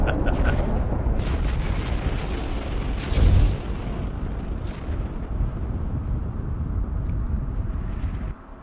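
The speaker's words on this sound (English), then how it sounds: "The explosions just keep on coming." Continuous rumbling booms from the video game Hawken, with a heavier blast near the middle over a dense, noisy battle roar.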